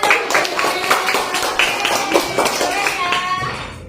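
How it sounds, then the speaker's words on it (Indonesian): Brief bursts of hand clapping from a small group, likely children, at an Indonesian school gathering, uneven and close, with voices talking over and between the claps. "Kasih tepuk tangan."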